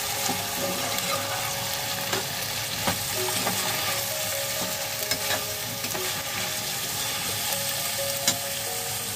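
Potatoes, green beans and peas sizzle in a pan with finely chopped onion, a steady loud frying hiss with occasional scraping stirs and small pops, no voices.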